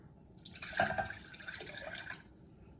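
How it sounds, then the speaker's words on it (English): Millets and water poured from a container into a cooking pan, a short splashing, trickling pour lasting about two seconds, close and fairly loud with no talking. "So here it goes in my pan."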